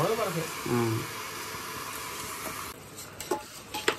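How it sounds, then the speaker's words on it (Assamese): Pulao rice fries in refined oil as a soft sizzle under a speaking voice, with a few light clinks of a utensil after the frying noise quietens. "পোলাও চাউল আমি ৰিফাইনত ভাজি আছোঁ বৰ্তমান"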